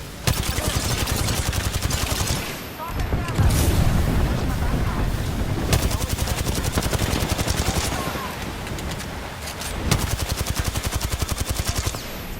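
An in-game airstrike of rapid machine-gun fire and booming explosions rattles on in dense, continuous bursts, loud and close, with brief heavier blasts and voices talking underneath.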